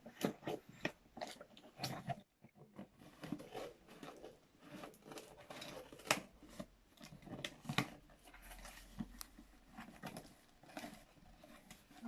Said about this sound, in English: And now you definitely need the scissors.